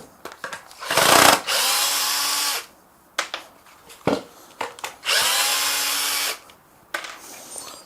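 A cordless power drill backs out screws: two long, loud whirring bursts up close, then a few short clicks and taps, then another sustained whir, with no talking.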